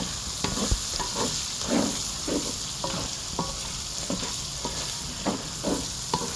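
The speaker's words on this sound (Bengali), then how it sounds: "পেঁয়াজ দেওয়ার পরে খুব ভালো করে নাড়তে হবে না নাড়লে কিন্তু নিচে লাগিয়ে যাবে" Onions frying in a pot while being stirred, a continuous hiss of oil under repeated rhythmic scraping strokes and occasional clanks, close and steady, with no voices.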